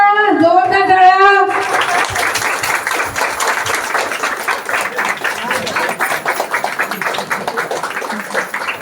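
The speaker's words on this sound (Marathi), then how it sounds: "सावधान जोरदार टाळ्या" Loud applause from guests at a 50th wedding anniversary celebration, a brisk crackle of many hands that starts after a short burst of sung chanting and carries on steadily to the end.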